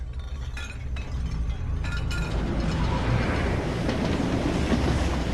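A train in a Westworld episode starts up with metallic clanks and clicks, then settles into a loud, steady rumble of rolling wheels that swells as it gets moving.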